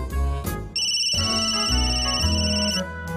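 A phone ringtone plays a bright electronic melody, steady and fairly loud, running for a few seconds without any talking.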